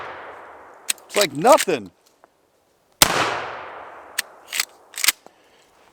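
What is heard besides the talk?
Henry Lever Action Axe .410 firearm shots into berm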